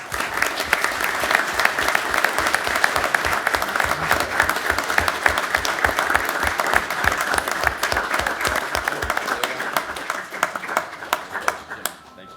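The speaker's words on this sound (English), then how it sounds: "give these guys a round of applause, please" Sustained applause from a gathered audience at a city council workshop, honoring firefighters at a badge pinning ceremony; dense, steady clapping continues for about twelve seconds before tapering at the end.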